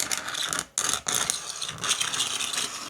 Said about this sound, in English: I'll take a scraper. It's like this. There's a paint scraper.